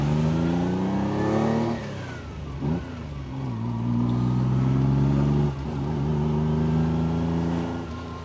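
A Ferrari Dino 246 GTS engine pulls hard through the gears, each rising howl cut by a brief dip at the shift before climbing again, loud and close with no talk.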